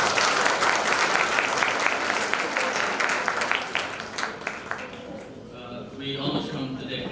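Applause for a performer at an A-level graduation ceremony, a dense sustained clapping from a crowd that thins out toward the end, with voices rising underneath as it fades.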